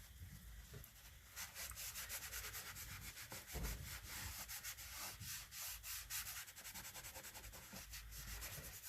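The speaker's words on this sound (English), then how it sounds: "You have to really scrub." Phthalo oil paint being scrubbed off a canvas laid flat on a table, a steady, close rasping rub that keeps going through the whole stretch with no voices.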